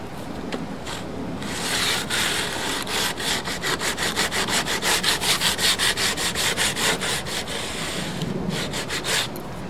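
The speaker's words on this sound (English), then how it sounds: "we take a sanding block, go across there and kind of straighten all that up." Rapid back-and-forth scraping strokes of a sanding block on a laminate countertop edge, a steady rasping rhythm that grows more even midway, close up.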